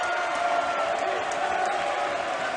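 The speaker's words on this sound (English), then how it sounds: "This crowd trying to will the Cardinals to a stop." Loud, steady crowd cheering and roaring at a college basketball game in the final minute, a dense wall of noise from the stands holding without a break.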